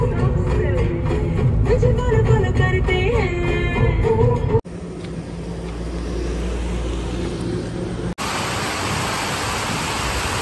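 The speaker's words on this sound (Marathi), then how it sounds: "काय बेकार पाऊस आलाय यार" Heavy rain pouring down outside a shop, a dense, loud rushing hiss that fills the scene continuously, with a voice speaking over it at first before the downpour continues alone.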